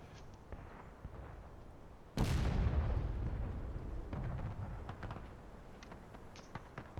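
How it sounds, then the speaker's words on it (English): Artillery fire in a Civil War battle video game, with one heavy boom landing mid-clip that rolls off slowly, plus scattered lighter pops and shots before and after. "Unfortunate that the Union artillery is not able to land shots here"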